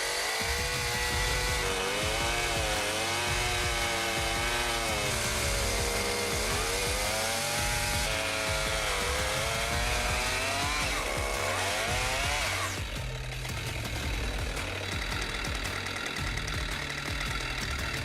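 A chainsaw runs steadily during tree cutting, its loud engine holding a constant drone with rising and falling revving throughout and a rougher, noisier stretch near the end.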